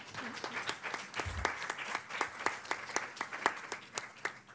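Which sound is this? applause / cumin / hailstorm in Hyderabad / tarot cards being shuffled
applause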